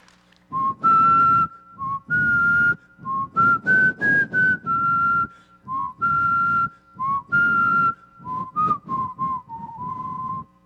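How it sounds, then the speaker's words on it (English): Melodic whistling at a convention in a string of short and sustained notes with brief pauses between phrases, close and fairly loud, with no talking. "would you like to hear my whistling?"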